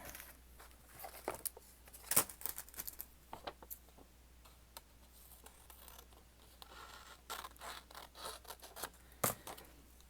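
Scissors snip through a piece of paper for a creative journal, with a quick series of close, crisp cutting clicks and rustles, some louder snips standing out, and no talking.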